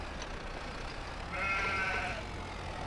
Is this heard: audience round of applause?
no